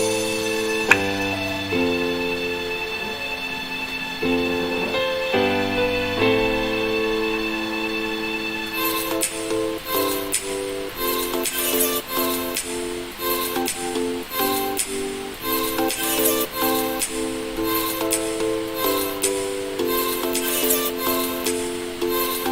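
Produced electronic pop demo verse: sustained synth chords and melodic lines open the first half, then a steady beat with bright percussive hits enters and drives the rest, loud and continuous without any voice speaking.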